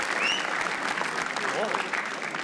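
A studio audience at a roast battle reaction show claps steadily for comedian Rajat Sood, a sustained even wash of applause with a person talking over it.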